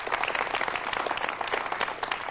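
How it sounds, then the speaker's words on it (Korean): A studio audience breaks into brisk, close applause for a motorcycle courier guest, the clapping dense and even for a couple of seconds. "박수 한번 쳐주셔야겠네요"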